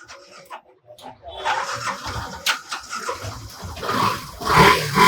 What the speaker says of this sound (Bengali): এই যে দেখেন ইঞ্জিনের সাউন্ডটা দেখলে বুঝবেন